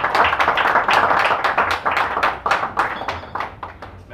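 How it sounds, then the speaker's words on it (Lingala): Steady congregational applause to thank the Lord at a church service, dense overlapping hand claps rising and falling in bursts throughout, loud and close with no talking over it. "Nous allons acclamer pour dire merci au Seigneur"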